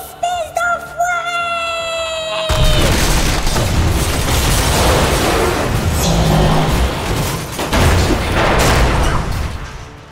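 A nuclear bomb detonates in Mass Effect: after a few short tonal game sounds, a sudden, loud, booming blast erupts and rolls on as a sustained rumbling roar to the end.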